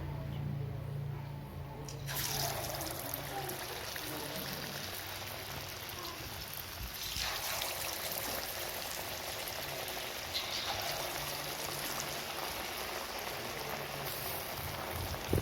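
Banana fritters (pazham pori) in batter frying in hot oil, a steady dense crackle and sizzle that swells as the second batch goes in, continuing evenly with faint kitchen sounds.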